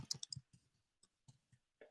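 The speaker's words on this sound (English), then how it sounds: "I gotta type." Keyboard typing in a classroom setting: a quick burst of crisp clicks at the start, then scattered softer keystrokes with pauses, close and fairly quiet, no talking.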